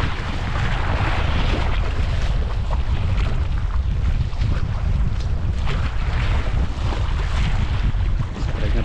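Strong, steady wind roars across open sea around a fishing boat off Kenmare, Ireland, a dense continuous rush with low buffeting and wave wash, loud and unbroken throughout with no voices.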